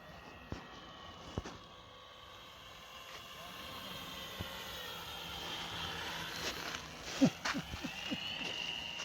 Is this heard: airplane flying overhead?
yes